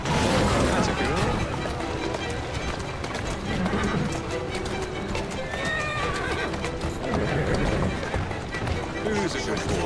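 Horse galloping in Assassin's Creed Syndicate, with steady hoofbeats and whinnies under a busy game mix and a voice speaking over it throughout.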